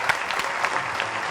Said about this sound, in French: On va applaudir pour leurs bonnes moyennes encore.